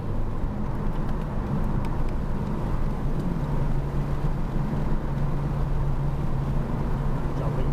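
A car accelerating on the COTA race track, a steady engine drone with a rising tone, heard from inside the car at constant loudness.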